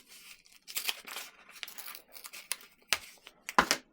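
Cover roll first-aid tape is cut with scissors or trauma shears, giving a series of short crinkling snips and rustles in irregular bursts, fairly close and quiet, with a couple of sharper cuts near the end.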